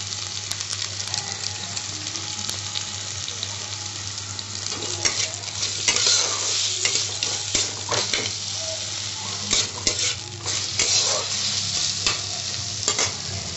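Chopped ginger and garlic fry with whole spices and tomato in a pan for a village-style chicken stew, a steady close sizzle broken by irregular stirring scrapes throughout.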